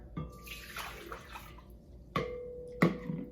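Warm water splashes into a stand mixer bowl in short, faint pours, with a couple of sharper gurgling bursts near the end, close up and quiet.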